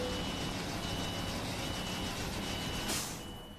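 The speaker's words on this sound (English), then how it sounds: "as soon as it goes green, hit the brakes and uncouple" Truck braking and trailer uncoupling in Euro Truck Simulator 2, a steady engine hum with a faint tone, then a short sharp burst of air-brake hiss before the sound drops away.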